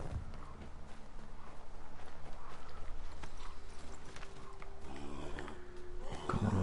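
Horse hooves clop at a steady walking pace in Assassin's Creed III, a rhythmic stream of muffled footfalls under a constant low ambient rumble, with brief louder knocks near the end.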